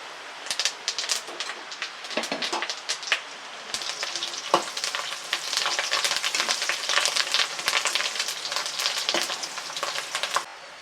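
Curry leaves and garlic crackle and sizzle in hot oil for a beef pickle, a dense, continuous frying hiss with sharp pops throughout, fairly close and with no talking.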